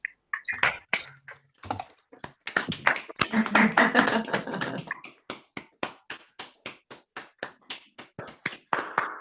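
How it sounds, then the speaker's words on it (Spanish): Applause for a panel at an online psychoanalytic conference: a burst of mixed claps and room noise, then a single close pair of hands clapping steadily in an even, sharp rhythm near the microphone. "podemos ya aplaudir la mesa"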